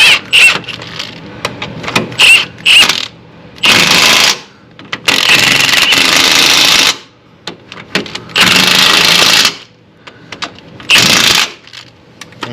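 Pneumatic impact gun tightening nuts on the power steering of a Chevrolet Silverado 3500 truck, heard as several loud, separate bursts of rattling whirr with short pauses and clanking between them.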